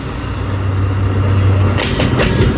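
Rehman Baba Express rail traffic on the Rawalpindi to Faisalabad line: a steady low rumble of a train, with rising clatter and hiss toward the end as the cars roll closer.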